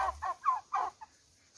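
A turkey in a village yard gives a short series of four or five close, clucking gobble-like calls in quick succession, ending with a faint final note.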